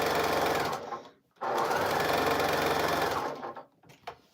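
A sewing machine stitches a scrappy cotton floral project in two long continuous runs, with a brief pause between them. It stops near the end as the bobbin thread runs out, leaving a few small clicks.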